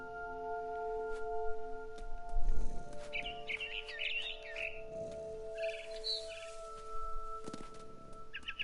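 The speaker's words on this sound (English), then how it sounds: "It was a barn swallow going back to her nest." Bright barn swallow chirps and tweets in short bursts in the video game What Remains of Edith Finch, over a steady synthetic hum, with soft footstep-like thuds and rustles underneath.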